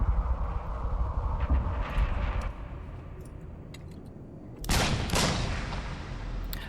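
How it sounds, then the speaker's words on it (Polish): Bursts of rapid gunfire and sharp shots crackle loudly, with a heavy volley erupting near the end, like a game firefight in the horror game Layers of Fear 3. "Przestańcie koledzy strzelać i straszyć"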